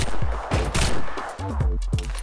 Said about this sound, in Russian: Пистолет интересен тем, что он стреляет короткими очередями по 3 патрона.